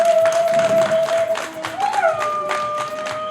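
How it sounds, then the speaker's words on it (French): A crowd at an event with a visiting mayor of Porto-Novo in Libreville applauds the consul, producing a steady patter of clapping and some cheering beneath a sustained tone, fairly loud. "Je vous demande encore un grand applaudissement pour notre consul."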